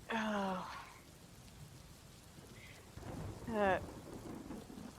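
A thunderstorm with steady rain and low, rumbling thunder, heard in the background under short voiced sounds and murmurs from people nearby.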